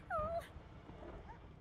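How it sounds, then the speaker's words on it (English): A dog whines in the Divinity II video game, a short rising-falling whimper in two tonal strands early on, then fading into low ambient game background with faint further whine traces. "The dog whines."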